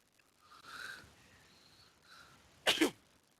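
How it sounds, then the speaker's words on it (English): A person sneezes twice in quick succession, loud and close, after a stretch of faint whistle-like breathing at a talk show recording. "Just sneezing, I'm good."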